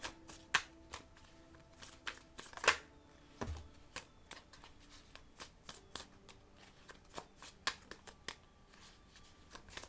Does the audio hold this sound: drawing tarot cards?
yes